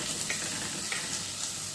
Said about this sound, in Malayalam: ഇനി അതിലേക്ക് ഉള്ളി ഇട്ട് കൊടുക്കുകയാണ്